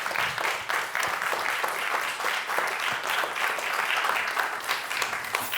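Audience applause for the presenters at a songwriting workshop, a continuous, even wash of clapping from a seated crowd, held steady and unbroken throughout.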